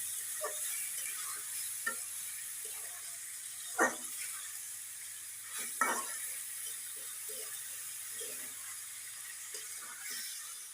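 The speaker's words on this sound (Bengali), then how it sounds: "দেখেন আমার মাংসটা কষানো হচ্ছে।" Mutton sautés with spices in hot oil: a continuous, close sizzle with soft stirring scrapes and a few louder clanks of the spoon against the pot.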